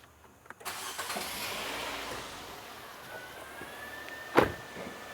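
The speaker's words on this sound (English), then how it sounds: "So now let's start the engine." A Nissan Sentra engine cranks and catches, rising into a steady running hum, with a sharp click or thump near the end.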